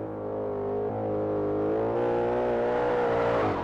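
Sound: sports car engine revving in video game Forza Horizon 5

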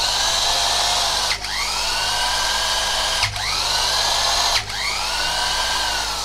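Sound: Makita 1/2 inch 100V 380W impact wrench running

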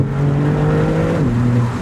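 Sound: Maserati MC20 engine accelerating

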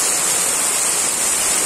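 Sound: heavy rain falling

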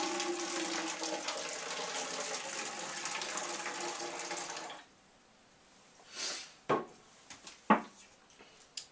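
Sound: pouring hot water into a bottle

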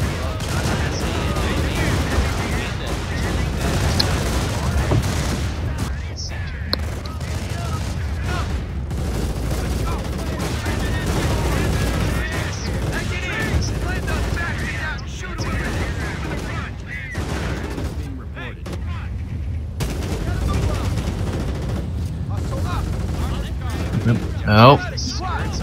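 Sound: gunfire from riflemen and grenadiers in a video game battle

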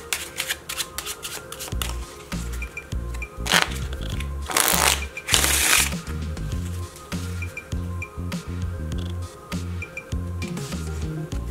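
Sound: deck of playing cards being shuffled

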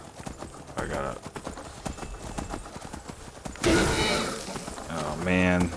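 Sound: horse hooves clip-clopping in video game Skyrim VR

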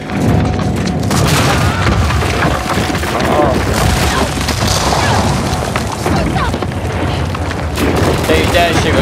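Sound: gunfire in video game Uncharted 4

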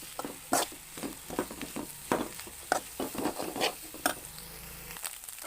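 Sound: stirring drumstick leaves and onion frying in a pan

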